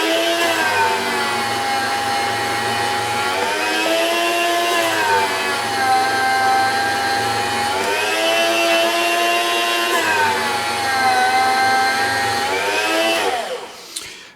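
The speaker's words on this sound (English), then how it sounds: "We're cutting these with a meat slicer to get them so they're all about the same." An electric meat slicer cutting venison backstrap into even jerky strips, a loud continuous motor whine that dips and rises in pitch as each slice is taken, winding down at the end.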